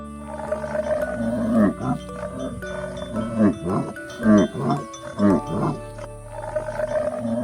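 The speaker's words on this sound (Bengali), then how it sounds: "দন্তস্বয় সিংহ রাগে কেশর নাড়ে" A lion roars angrily in a series of deep, rolling growls, several bursts in close succession, loud and near, with no talking.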